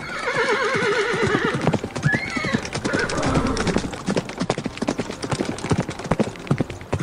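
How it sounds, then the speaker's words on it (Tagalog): A horse pulling a carriage lets out a loud neigh and then gallops on with rapid, close clip-clopping hoofbeats that keep up a driving rhythm to the end. "Patakbo ng kabayo ni Kamlon, hatak ang karwahe."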